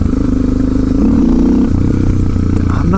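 Motorcycle engine held at a loud, close steady idle-to-mid rev during clutch-up practice, with a rough pulsing note that rises slightly and clatters continuously throughout.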